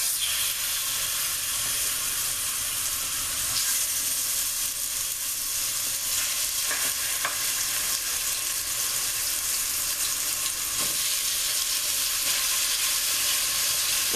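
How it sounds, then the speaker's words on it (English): Chicken meat frying in a small amount of oil in a pan for sour cream chicken enchiladas, a steady loud sizzle with faint stirring scrapes and no talking. "we're going to cook the meat until they are done"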